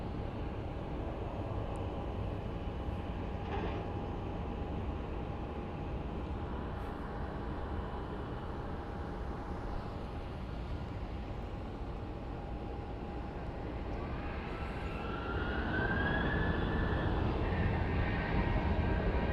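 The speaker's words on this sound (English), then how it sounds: "I think this plane is going to sound like a little whale, the little Airbus" An Airbus airplane passing at Phoenix Sky Harbor airport, a distant, low jet engine rumble with a steady whine that builds louder toward the end as the aircraft draws nearer.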